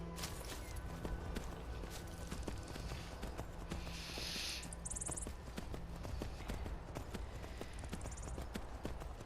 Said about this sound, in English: When I'm riding my horse, I would prefer my horse to stay close to me